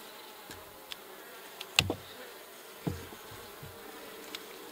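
Honey bees buzz around an open hive, with a faint steady hum under a few sharp close clicks and knocks, probably from frames or hive tools being handled.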